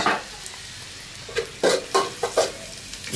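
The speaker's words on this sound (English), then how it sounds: "you start to fry the chili and garlic first" Chili and garlic fry in a pan for Thai pad kra pao, a soft sizzle broken by several short scraping stirs and clinks of utensil against the pan, fairly quiet with no talk.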